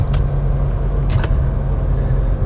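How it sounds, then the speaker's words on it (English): A BMW E46 M3 engine runs with a steady deep rumble and a low droning tone, loud and close, with a couple of brief higher bursts near the middle and no talking. "You hear that sound coming from that engine?"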